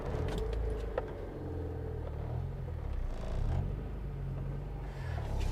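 A 1989 Honda Prelude rolls slowly in gear, with a low engine rumble, light clinks and rattles, and shifting tyre and body noise close by, fairly quiet and without speech.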